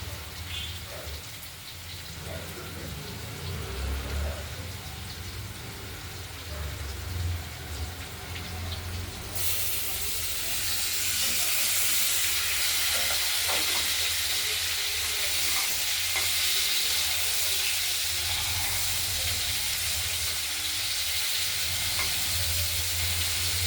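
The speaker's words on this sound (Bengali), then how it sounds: "এই আলুটা ভাজা হচ্ছে তার সঙ্গে দিয়ে দেবো।" Potatoes fry in oil in a pan for a fresh katla fish curry. A moderate crackling sizzle jumps to a louder, denser hiss partway through and holds steady with occasional stirring scrapes; no voices.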